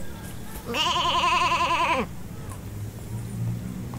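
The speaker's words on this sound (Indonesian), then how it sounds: "Ada suara kambingnya dong." A goat in the horror video game DreadOut 2 lets out a single loud, wavering bleat lasting just over a second, set against quiet game ambience.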